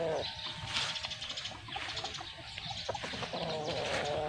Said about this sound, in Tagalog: Ayan ang manok, napakagaling na manok yan.